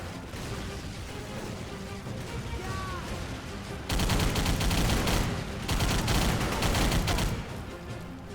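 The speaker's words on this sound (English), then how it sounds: "switching to my secondary weapon to take out these enemies faster compared to then if I reloaded" Rapid gunfire from a secondary weapon in a video game shooter, with sustained bursts that grow louder and denser after a quieter opening stretch, continuous and dominant throughout.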